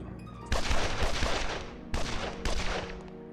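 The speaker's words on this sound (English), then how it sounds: "That was a lot of gunfire." Several bursts of gunfire crackle through the Evil Genius strategy game, dense rapid shots in two main volleys with a brief gap between them, loud and close.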